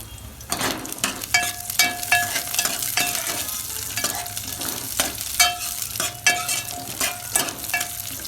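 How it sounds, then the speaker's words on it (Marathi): Garlic, ginger and green chillies roast in a pan for Vidarbha-style chicken curry. A spatula scrapes and knocks again and again over a low sizzle, close and fairly loud, with no voices. "ते बघा लसण अद्रक चांगला भाजत आलाय. हे बघा मिरच्या बी भाजून घ्यायच्या."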